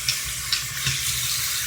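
Tap water runs steadily while soap is rinsed out of a Barbie doll's hair, a continuous close hiss with a few brief splashy spikes.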